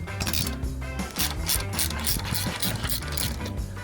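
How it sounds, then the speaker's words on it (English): A wrench loosening the spare-tire jack in a 2025 Toyota Tacoma TRD Off-Road gives steady, close ratcheting clicks and metallic mechanism noise that run continuously without pause. "it's not ideal to require a wrench to get your jack off"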